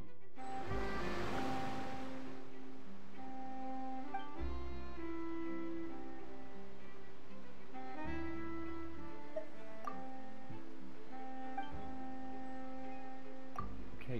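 Water waves in the video game Genshin Impact, a soft continuous wash of surf under a sustained musical score with held tones, steady and moderate throughout.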